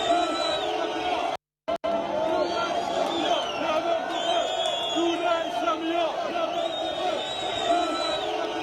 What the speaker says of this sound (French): nous allons les écouter, ce qu'ils crient, ce qu'ils sont en train de dire, de vociférer